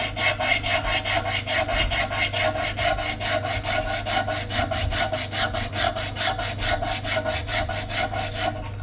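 A long strip of 60-grit sandpaper is pulled back and forth across a turned beech wood yarn bowl. It makes a steady, loud rasping scrape with rapid, even strokes that continue alone throughout.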